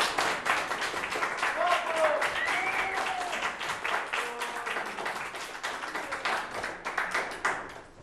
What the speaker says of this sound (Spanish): Pues recibamos con un fuerte aplauso a Dani.